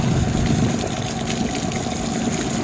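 Water sprayed onto the deck of a fishing boat to wash it down, a steady loud rushing gush over a low engine-like hum, continuous and close with no voices.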